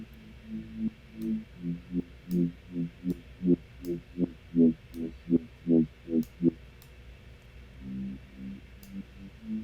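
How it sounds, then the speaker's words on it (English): Synth bass wobbling under an LFO-driven auto filter, pulsing in a steady run of about a dozen rhythmic swells before a short pause and a few more, with faint ticks above. "I have a little LFO tool that's modulating the auto filter on it to create this wobble sound"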